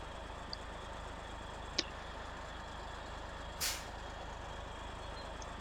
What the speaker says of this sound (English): I hit stop engine by accident